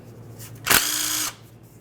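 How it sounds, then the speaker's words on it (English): A power tool spins out the rear transmission pan bolt on a 2010-2013 Ford Transit Connect, a single half-second whirring burst, close and loud, with quiet shop ambience before and after. "Continue on by safely removing the rearward bolt."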